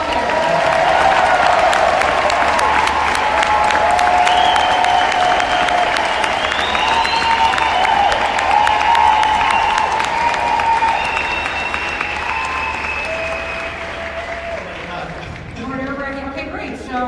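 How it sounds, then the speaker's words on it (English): Applause from a large audience at the USANA Convention 2018 stage event, a dense steady clatter of clapping with some crowd noise that holds loud for most of the stretch and eases slightly toward the end. "Can you guys give them a round of applause?"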